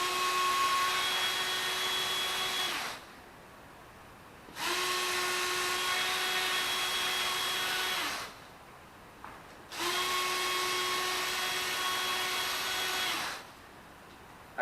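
Electric power driver backing screws out of an RC car, three loud whirring bursts of about three seconds each separated by short silences, with a steady pitched whine.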